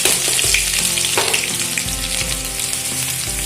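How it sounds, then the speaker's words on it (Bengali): Chopped ginger and garlic hit hot oil left from frying pakoras, producing a loud, close, continuous sizzle with occasional clinks and scrapes from the pan. "ওই তেলের মধ্যে আমি দিয়ে দিচ্ছি আদা কুচি আর রসুন কুচি"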